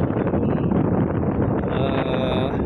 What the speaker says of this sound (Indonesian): suasana di sini angin kencang